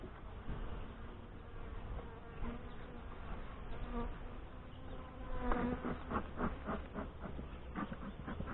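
Saskatraz honey bees buzzing at an open hive in northwest Wisconsin, a continuous close swarm hum with individual bees droning past, fairly faint and steady.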